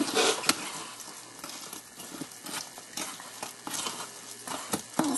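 A spoon stirs apple streusel muffin batter in a mixing bowl, with a steady wet scraping and irregular clicks against the bowl's sides, close and moderately quiet, and no voices.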